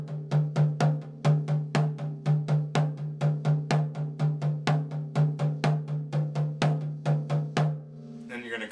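Drum paradiddle played slowly and evenly, a steady run of about thirty sharp strokes with accented first hits, close and loud, ending abruptly in a brief rustle.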